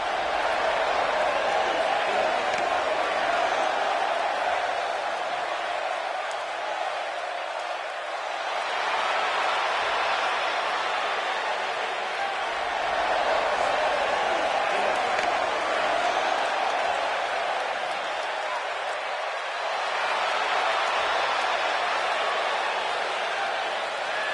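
Sold-out arena crowd roaring in the wrestling game WWE 2K19, a steady, dense wall of cheering and chatter that swells and dips in waves across the whole stretch without a break.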